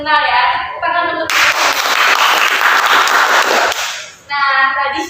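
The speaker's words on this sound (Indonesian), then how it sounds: "Tepuk tangan untuk" A group in a school counseling session claps together, a loud burst of dense applause lasting about three seconds, framed by speech before and after.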